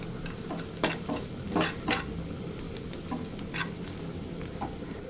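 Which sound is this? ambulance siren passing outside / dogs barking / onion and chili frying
onion and chili frying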